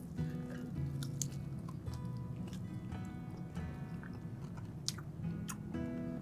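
Close, crunchy biting and wet chewing of a crispy hot chicken wing, with repeated crackling crunches and squishy mastication sounds, no talking.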